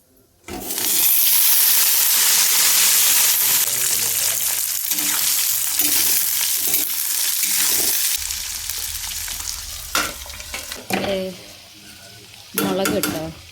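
Cumin seeds hitting hot oil in a home kitchen pan, a loud bright sizzle bursting in and roaring steadily, then settling into quieter crackling with scraping stirs and brief voices near the end.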